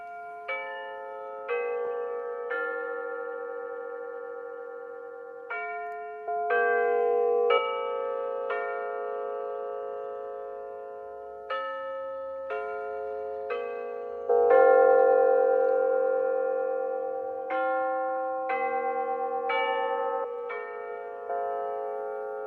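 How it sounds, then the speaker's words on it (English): A synthetic electronic clock chime plays the Westminster melody, a series of clear bell-like tones struck one after another with sustained ringing decay, loud and close, with no talking. "it's more of a synthetic Westminster chime, but it still sounds really good"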